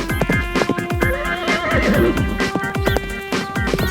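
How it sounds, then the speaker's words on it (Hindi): A fast horse whinnies and neighs repeatedly in a staged storybook scene about a prince's arrival, the high wavering calls loud and close, accompanied by soft hoof clops and no talk. "अरे कितना तेज घोड़ा है"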